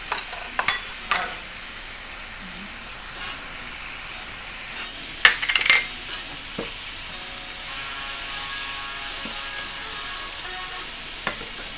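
Spaghetti squash faux pasta being folded into shrimp, chicken and sausage jambalaya in a pan, a steady low sizzle and stir with a few sharp scrapes and clinks of the utensil against the pan, no voices.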